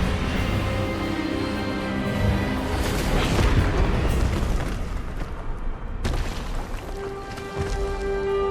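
An Expelliarmus spell in Hogwarts Legacy blasts through a continuous roaring barrage of booming, explosive sound with sustained musical tones underneath, loud and dense throughout with a brief dip partway.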